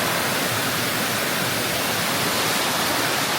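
Thep Phana waterfall in Chaiyaphum roars as a dense, unbroken rush of falling water, loud and constant throughout.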